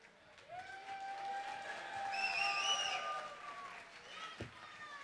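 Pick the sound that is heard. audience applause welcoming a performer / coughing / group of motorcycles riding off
audience applause welcoming a performer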